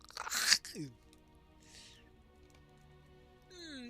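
Crunchy stew of spoiled meat and spices being eaten in a video game: one loud, dense crunching burst near the start, then quiet game tones and a faint rustle.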